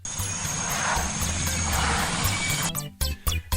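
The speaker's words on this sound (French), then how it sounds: "un hélico qui arrive comme ça dans une base ennemie" A helicopter in the NES game Infiltrator arrives at an enemy base, its steady chiptune rotor drone and engine noise running loud before breaking off into choppy beats.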